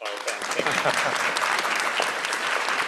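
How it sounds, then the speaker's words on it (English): Clapping rises from an audience at an agriculture careers event, saluting a panel. It is a full, lively burst of many hands, close and continuous, with scattered voices mixed under it. "Can we get a round of applause for our panel?"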